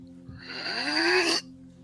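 A voice imitates a large creature's final shuddering inhale, a single drawn-out rasping breath that swells over about a second and cuts off abruptly into quiet, close and fairly loud.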